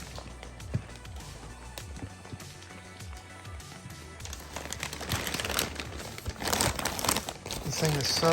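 Vacuum-sealed plastic wrapping on a Ghostbed Twin XL mattress being cut with a razor knife and pulled open, giving repeated crinkling, tearing and rustling that grows louder and denser after the first few seconds.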